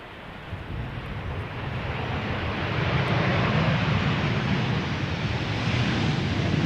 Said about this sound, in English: Transavia up next, arriving from Bari. 737-800, flight 5820